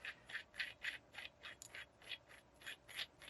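Electric pressure gauge being unscrewed from a Core mini 4500 PSI tank regulator, a faint, close, rhythmic series of about a dozen ratcheting metal clicks and rubs.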